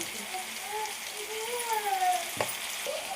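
A tempering fries in a pan for ridge gourd curry, giving a steady crackling sizzle at moderate level, with a faint voice and a brief clink partway through.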